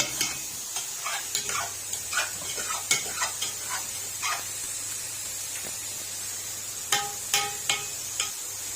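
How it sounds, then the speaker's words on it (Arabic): A spoon stirs spiced rice in a cooking pot, with a soft sizzle beneath and a series of scraping, clinking strokes, louder clusters at the start and near the end. "احنا هنقلب زي ما احنا قلنا كده البهارات كلها كده في بعضها اهو."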